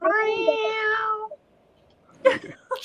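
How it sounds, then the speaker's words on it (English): A cat meows in a drawn-out, whining cry lasting about a second, close and clear, followed after a short pause by a couple of brief fainter sounds that could be voices or handling noise. "Stop choking that cat."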